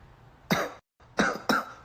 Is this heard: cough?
yes